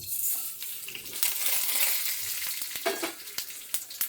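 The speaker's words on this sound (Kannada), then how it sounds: "ಎಣ್ಣೆ ಕಾದಿದೆ, ನಾನು ಎಲ್ಲ ಒಟ್ಟಿಗೆ ಹಾಕ್ತಾಯಿದ್ದೀನಿ." Ingredients for Melukote puliyogare gojju roast together in hot oil, giving a steady, close sizzle punctuated by sharp crackles and pops throughout.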